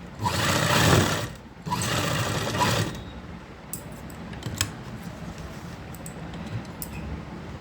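Two short bursts of a sewing machine stitching along a kurti neckline, loud buzzing runs of about a second each, followed by quieter fabric handling and light clicks.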